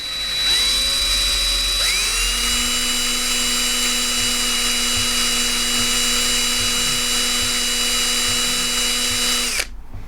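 A power drill bores into metal held in a vise, whining steadily close up, rising in pitch after a couple of seconds as it speeds up and running for about eight seconds before stopping abruptly, with no talking.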